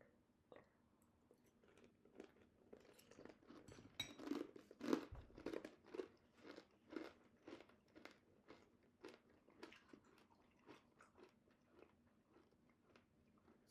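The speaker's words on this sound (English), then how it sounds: "You're noticing there's a lot of chewing. It's too crunchy." Crunchy Passover granola with dried cranberries being chewed close up, a long run of sharp, quiet crunches in a steady rhythm that slowly thins out, with a few soft murmurs between bites.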